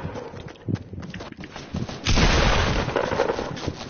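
Gunfire in Fortnite Season 3: scattered shots crack out over the first two seconds, then a loud, dense burst of firing and impacts holds to the end, close and forceful.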